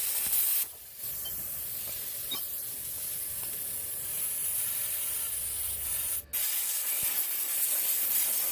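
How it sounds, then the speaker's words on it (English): A Harbor Freight Titanium plasma cutter slices steel with a steady, broad hissing roar that runs almost nonstop at close range, broken by two brief cutoffs as the arc stops and restarts. "This is the Harbor Freight titanium plasma that I'm using."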